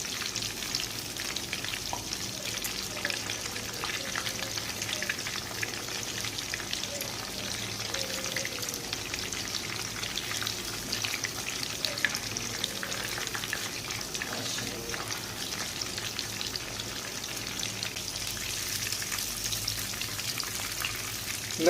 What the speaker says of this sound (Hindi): बिल्कुल स्लो फ्लेम के ऊपर आपने इनको फ्राई करना है 10 से 12 मिनट के लिए।